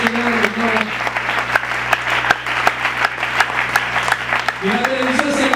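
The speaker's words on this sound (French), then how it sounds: "Acclamez le Seigneur" A church congregation applauds at a worship service with steady, fairly dense clapping that runs for several seconds under a loud voice and singing.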